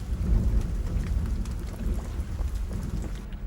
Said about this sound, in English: Come out the rain.